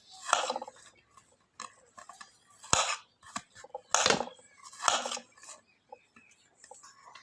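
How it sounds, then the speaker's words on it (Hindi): Knife cutting apples into fairly large pieces for a creamy fruit chaat, heard as a series of crisp, separate slicing and chopping strokes against a board, close and fairly quiet with pauses between cuts. "इसी तरह सेब की कटिंग जो है वो कर लेंगे"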